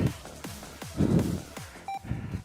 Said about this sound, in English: you can't help but stop when you hear that first beep